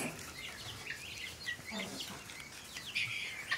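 A yellow hen that guinea fowl chicks have adopted as their mother clucks softly among other farmyard birds, with scattered faint chirps and clucks against quiet outdoor background noise.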